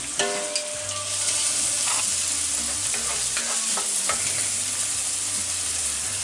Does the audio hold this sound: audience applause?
no